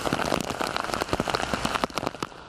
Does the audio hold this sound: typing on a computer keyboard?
no